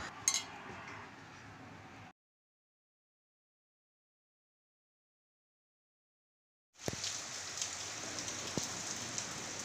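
Rain falls after a spell of hot weather, a steady soft patter of drops hitting surfaces, heard faintly at first, then cut off by a silent gap before the shower resumes with a few sharper drips.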